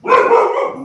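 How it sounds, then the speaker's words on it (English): A dog's single loud bark, close by and lasting under a second, stands alone with no other sound. "Sorry about that, my dog."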